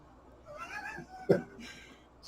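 A startled house cat gives a brief sharp cry, quick and close, rising out of a quiet room where a Creality K1 Max 3D printer runs with its fans humming.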